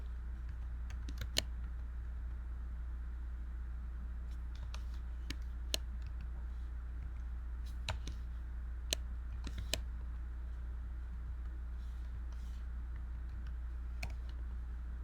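Occasional sharp computer mouse or keyboard clicks, sparse and irregular, sit over a steady low electrical hum in a quiet room.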